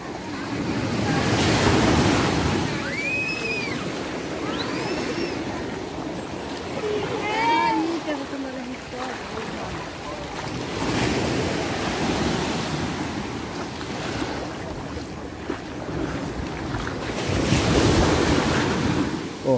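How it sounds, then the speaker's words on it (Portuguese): Forceful waves crashing on Ponta Negra beach in Natal, a loud broad roar of surf with repeated surges, mixed with wind buffeting the microphone and faint distant voices. "continua batendo aqui a água com força"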